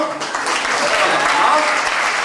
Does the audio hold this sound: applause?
yes